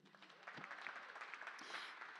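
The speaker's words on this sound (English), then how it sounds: "Clap it up" Applause from an audience at a panel talk, faint and distant, a soft continuous patter of many hands that swells slightly near the end, with a brief voice rising over it.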